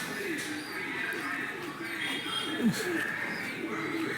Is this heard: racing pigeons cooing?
yes